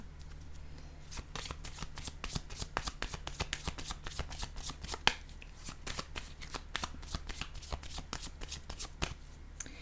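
Tarot-style cards shuffled for a card reading: a long run of rapid, crisp riffling snaps, close and fairly quiet, with a louder slap midway and a faint voice at times.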